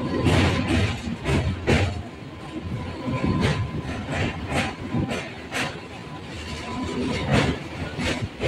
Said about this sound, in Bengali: নদী সেতুগুলির উপর দিয়ে যখন ট্রেন যায় একটি শব্দ হয়